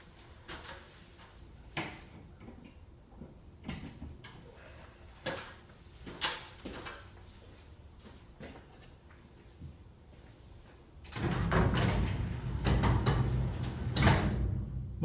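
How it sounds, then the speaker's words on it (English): A repaired garage door, its roller freed from where it was squeezed between the tracks, runs on its opener with a steady mechanical rumble for the last few seconds. Scattered clicks and knocks come before it starts. "So now we'll go plug the garage door back in"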